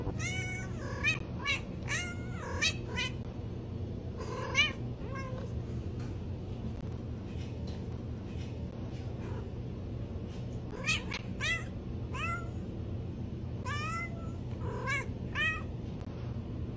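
Repeated cat meows and yowls, some strained and caterwauling, come in bursts over a steady low hum.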